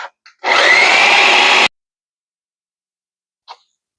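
Blender pureeing a vegan potato and chickpea pie filling: one loud, steady whir running for just over a second and cutting off sharply, followed by silence and a couple of faint clicks.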